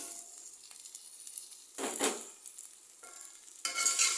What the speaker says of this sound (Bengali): ভাজা হয়ে গেছে সাথে বিচিগুলো দিয়ে দিলাম